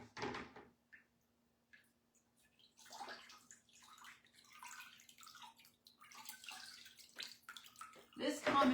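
A measuring cup scoops water to rinse off a water-marbled item: splashes, trickles and light clattering come and go, with a soft voice in places and a louder splash at the end.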